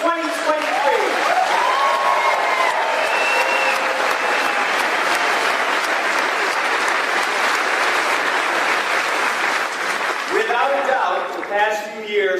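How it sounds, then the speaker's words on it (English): A large audience applauds the graduating high school class of 2023 at a graduation ceremony, a dense, sustained wash of clapping filling the hall at steady volume before thinning near the end as a voice returns. "let's have a round of applause for the John Jay High School class of 2023"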